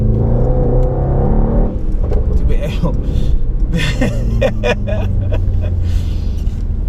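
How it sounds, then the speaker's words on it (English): A 670 hp, 2-ton race car on a public road: a steady, droning engine note is clear at first, then continues as a rougher rumble beneath someone talking close by. "It's a race car. It's a 2-ton race car."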